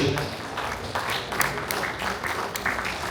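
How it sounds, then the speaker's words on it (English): An audience claps at an Indian patriotic flag ceremony in Chicago, a brief spatter of applause with no voices, moderate in level and somewhat distant. "have a round of applause"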